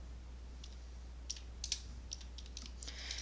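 Quiet, scattered keystrokes tap on a computer keyboard over a low steady hum, a few light clicks and short clusters spread irregularly across a few seconds.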